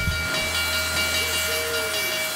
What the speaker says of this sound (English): The train uses steam locomotives that have been in service since the 1920s